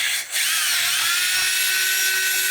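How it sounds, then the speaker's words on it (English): Electric drill whirring steadily as it bores a 1/4-inch hole into wood, a high motor whine that starts after a brief dip and runs for a couple of seconds. "we'll drill our 1/4-inch hole for our T-bolts"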